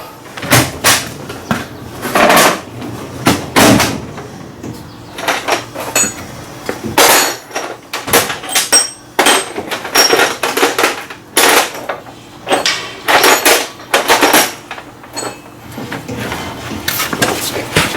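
Repeated sharp metal hammer strikes punching out the front brake rotor screws on a 2022 Kia Sorento, irregular clusters of loud close blows separated by short pauses, with no talking.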